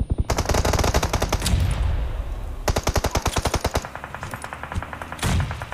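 Automatic gunfire in a PUBG match, long rapid bursts of machine gun fire that stop and restart, loud and close with a brief pause near the middle.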